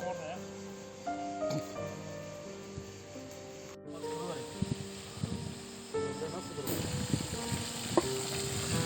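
Crackling, hissing fry of fish in a hot pan, steady and close, with scraping and clinks of utensils stirring over it.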